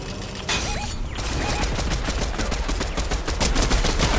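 Rapid automatic gunfire in Fortnite, dense continuous bursts of shots at close range filling the whole stretch, with a brief muffled dip near the start.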